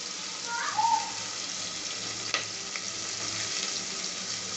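Onions and green chillies frying in a pan for vegetable biryani, with a steady broadband sizzle throughout and a couple of faint clinks or stirring knocks near the middle.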